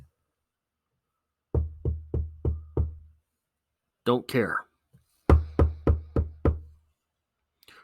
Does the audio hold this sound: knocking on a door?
yes